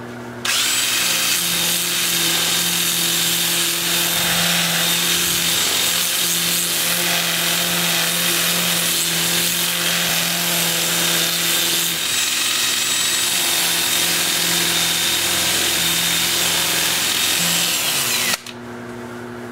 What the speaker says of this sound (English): I'll switch to my 2-inch disc starting at 80 grit. I'll have the lathe spinning in reverse at 350.